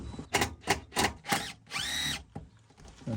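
Power drill bursts on spinning bolts in an 1840s cottage on the Isle of Skye: five or six short, loud whirring pulses in quick succession, one longer sustained whine, then a final brief burst, with no talk.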